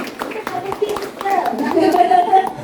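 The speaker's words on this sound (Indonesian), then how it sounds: "Tepuk tangan sekali lagi." A seated audience clapping hands at a health talk, a short burst of scattered claps heard close, mixed with murmuring voices including a child's.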